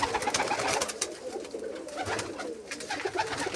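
Pigeons coo softly and repeatedly close by, their low warbling calls overlapping against a light background rustle.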